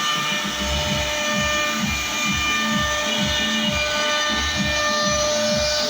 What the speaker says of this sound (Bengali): পাঁচ সাতজন লেবারের কাজ এক ঘন্টায় করতে পারে এই মেশিন সিএনসি রাউটার মেশিন